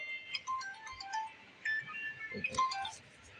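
A phone ringtone plays a faint, bright electronic melody, with short chiming notes repeating at a moderate pace.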